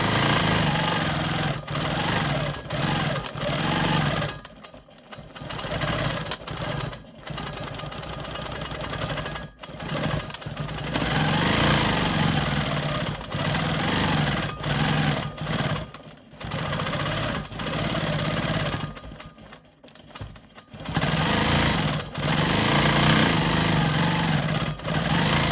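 A Quilt Maker Pro 20 longarm quilting machine stitching smoky swirl patterns in a triangle: a steady mechanical whir that runs in long bursts, with brief pauses and changes in speed between passes.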